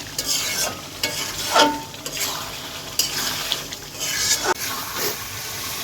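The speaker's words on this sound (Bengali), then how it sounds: "ভেজে রাখা আলুগুলো দিয়ে দিচ্ছি। দিয়ে আমি আরেকটু 2-4 মিনিট কষাবো" Chicken curry with fried potatoes stir-fried in a pan, with a steady sizzle and repeated scraping strokes of a spoon against the pan at an irregular rhythm, close and clear.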